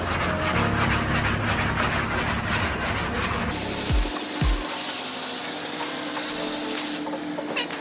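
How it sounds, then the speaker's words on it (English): Guide coat on a car body panel being sanded by hand with a round flexible sanding block, a steady close scraping rub with strokes shifting tone partway through, plus a couple of brief knocks. "for these curves, you use the round, flexible sanding block, and for the rest, use the flat"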